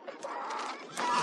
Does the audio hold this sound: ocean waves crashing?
no